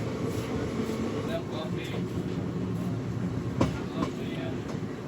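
A passenger train runs straight through Penukonda railway station without stopping. The rumble and clatter of wheels on rails is heard from onboard, steady throughout, with occasional sharper clicks and a brief thump.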